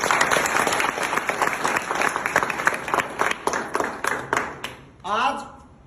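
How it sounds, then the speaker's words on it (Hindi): Loud applause from a village crowd gathered for a Sant Kabir Das Jayanti event, dense clapping filling the first five seconds before a voice starts speaking over the tail end. "इस गांव के लिए एक बार जोरदार तालियां मिले।"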